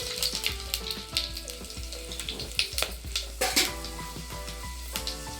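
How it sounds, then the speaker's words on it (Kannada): Whole spices crackle and sizzle in hot ghee and oil in a pan, with sharp popping bursts over a steady frying hiss and occasional clinks of a utensil against the pan, close and without talk. "ತುಪ್ಪ ಆಯಿಲ್ ಕಾದಿದೆ. ಅದಕ್ಕೆ ಸ್ಪೈಸ್ ಐಟಮ್ಸ್ ತಗೊಂಡಿದ್ದಲ್ಲ, ಇದು ಮಸಾಲೆ ಐಟಮ್ಸ್, ಅದನ್ನು ಆ್ಯಡ್ ಮಾಡ್ಕೊಳ್ಳೋಣ. ಸ್ವಲ್ಪ ಫ್ರೈ ಆಗಲಿ"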